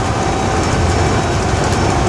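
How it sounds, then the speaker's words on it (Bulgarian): A fast train running through big snowdrifts near Aytos, a loud, steady rumbling roar with an even rushing texture that stays constant throughout. "но влаковете се движат."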